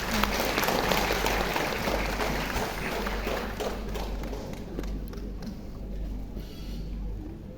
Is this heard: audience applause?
yes